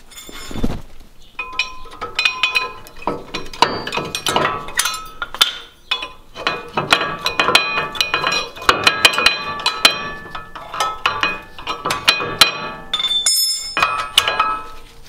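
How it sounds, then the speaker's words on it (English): Worn brake pads are pried off a Nissan Pathfinder caliper bracket, producing sharp metallic clinks, taps and scraping clatter in irregular bursts, close up in a quiet garage. "Then pop off the pads."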